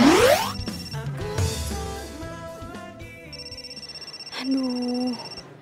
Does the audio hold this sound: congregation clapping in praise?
no